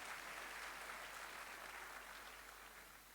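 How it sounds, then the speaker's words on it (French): Audience applause after a theatre troupe's performance at a political event in Senegal, a dense, steady wash of many hands clapping at a distance, fairly faint and slowly fading toward the end. "Merci encore une fois d'applaudir Espoir de la banlieue."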